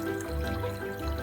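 Water being poured while rinsing porridge grain in a home kitchen, a short continuous splashing pour that runs steadily for about a second, close and moderately loud with no voices.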